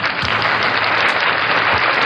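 A crowd applauds in a continuous, loud burst of clapping, a thick uniform patter that holds steady for about two seconds with no talking over it.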